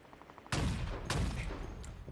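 Two loud sniper rifle shots in the video game Halo Infinite, each a sharp heavy crack with a lingering tail, about half a second apart, close and alone.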